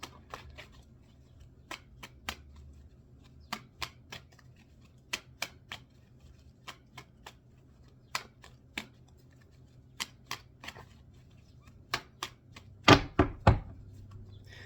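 Tarot cards are shuffled in quick riffles, crisp bursts spaced irregularly against a quiet room, ending with a louder flurry of riffles and taps.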